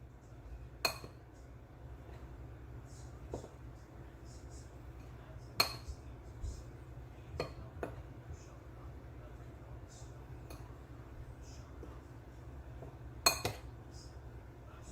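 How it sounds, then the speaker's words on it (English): A spoon mixes dry cake ingredients in a bowl for a Christmas fruit cake, giving a few sharp clinks of metal against the bowl spaced out over a faint low background hum. "Gonna get a spoon and mix all the dry ingredients together"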